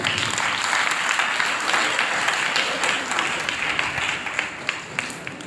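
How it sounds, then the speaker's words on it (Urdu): Sustained applause from a church congregation at a First Holy Communion service, clapping for two children; dense, steady hand-clapping fills the room for several seconds with a faint voice or two mixed in. "ان دونوں کے لیے پہلے تالیاں بجائیں."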